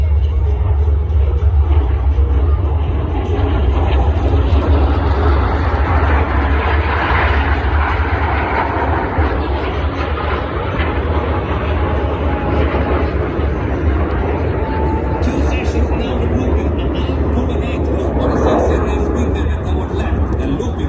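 Jet display aircraft at the 2024 California Capital Airshow cross overhead in a loud, continuous roar that swells and fades over about twenty seconds, with a commentator's voice faintly heard.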